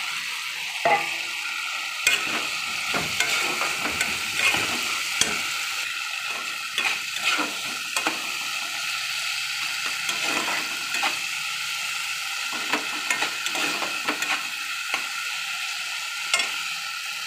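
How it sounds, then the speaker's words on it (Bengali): Fried pointed gourd is stirred in a hot pan for a fish curry with papaya and potato. Continuous sizzling frying runs throughout, punctuated by repeated scraping stir strokes, close and alone without talk. "এবার ভাজা পটলগুলো বন্ধুরা দিয়ে দিলাম।"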